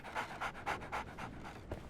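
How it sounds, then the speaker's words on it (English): A dog pants in the Sherlock Holmes: The Awakened video game, giving about eight quick, rhythmic, breathy huffs close up at moderate volume, with no talking. "So, Barnes has a dog now."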